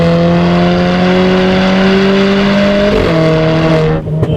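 A stage 4 tuned Renault Clio 4 RS accelerates hard, its engine a loud, close sustained drone rising in pitch, a brief gear-shift dip midway, then cutting off abruptly at the end.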